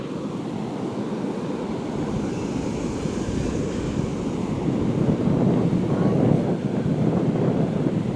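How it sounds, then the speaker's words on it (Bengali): Sea waves break on a distant shore in a continuous broad wash of surf, with wind buffeting the microphone throughout. "দূরের ঢেউগুলো কিভাবে ভাঙছে, এত সুন্দর দেখতে লাগছে"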